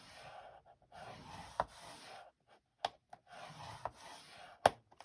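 A paper piece for a small booklet is scored with a tool. It gives quiet, close scraping strokes in short runs, with a few soft clicks between them.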